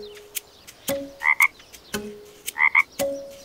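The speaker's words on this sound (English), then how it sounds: "Nope, that was the sound of a frog." A frog croaks repeatedly at close range, paired calls recurring in a steady rhythm against a quiet background, in a children's cartoon.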